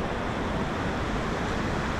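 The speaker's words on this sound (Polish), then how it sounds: "Tutaj proszę, jak sobie rzeczki ładnie płynie" A small river flowing near a waterfall at Szklarska Poręba, Poland, making a steady, even rush of water at fairly close range with no voices.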